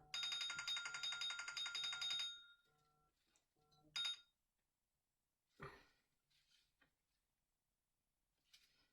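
A house phone rings loudly for about two seconds in a quiet home workshop, a warbling electronic trill that cuts off abruptly, followed by a few faint clinks and a brief knock.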